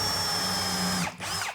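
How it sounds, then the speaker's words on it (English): A power drill bores a pilot hole into the panel of a three-drawer base cabinet being assembled, whining steadily and close for about a second before it stops, then briefly spins up again. "Always drill a pilot hole, one in the middle"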